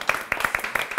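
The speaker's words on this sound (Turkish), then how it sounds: "O zaman hep bana alkış." A few people clap in a quick, uneven patter for about a second, close by at a casual food-tasting gathering, with voices around them.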